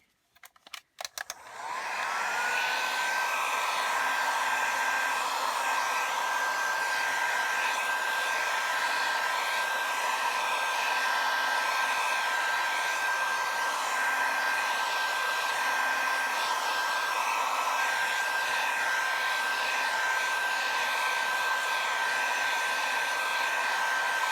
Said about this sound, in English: I am going to hit it with a heat gun real quick, just to make sure all that ink is dry